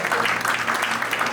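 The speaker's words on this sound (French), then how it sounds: "Est-ce que quelqu'un peut acclamer?" A church congregation breaks into steady applause and acclamation, a dense, continuous wash of clapping and cheering voices filling the room throughout.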